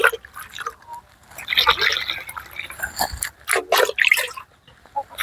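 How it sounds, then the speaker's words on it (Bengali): Water splashes and trickles into holes dug in soil, uneven bursts of pouring and dripping separated by short pauses, close and moderately loud. "এখন এই যে গর্তগুলোর মধ্যে জল দিয়ে রাখছি"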